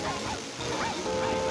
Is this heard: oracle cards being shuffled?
no